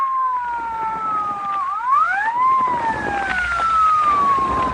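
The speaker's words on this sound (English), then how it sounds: "What chowderhead was stupid enough to use his siren?" A police car siren from an old radio crime drama wails loud and close, its pitch sweeping up and down in a steady rising and falling cycle over a low background rumble.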